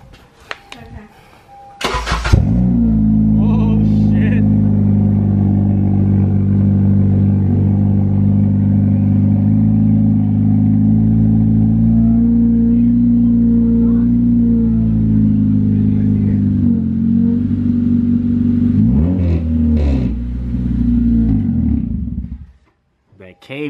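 A Honda car with a straight pipe exhaust cranks and fires up, then holds a loud, steady, close rumbling drone with shifts in revs before cutting off abruptly near the end; people talk and shout around it.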